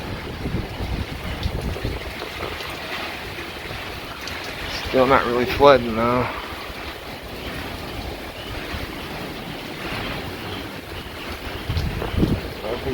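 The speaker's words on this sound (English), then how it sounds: "It's pretty windy out here." Strong Hurricane Sally winds in 2020 gust and buffet the microphone in a constant roar. A person speaks briefly over the wind midway through.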